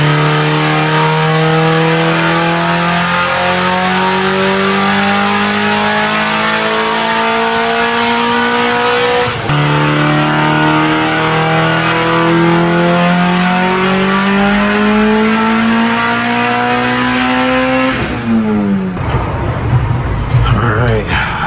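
A turbocharged Mitsubishi Evo engine revving hard, a loud, close, sustained climbing drone through repeated gear pulls, ending in a rough lift-off burble, with talk over it.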